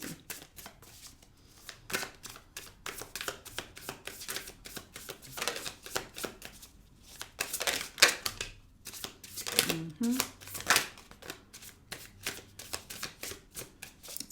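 Tarot cards drawn and shuffled from a deck make quick, soft papery slaps and riffles in irregular clusters, close and fairly quiet, with a person speaking in between.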